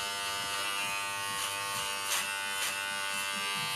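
A Braun cruZer 6 beard trimmer runs with a steady, close electric buzz, its pitch wavering slightly as it is moved, and no talking.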